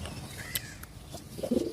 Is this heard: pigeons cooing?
yes